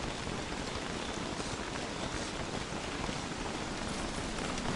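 Constant in-game rainfall from Don't Starve, a close, uniform hiss of drops striking the ground that holds level from start to finish with no talking.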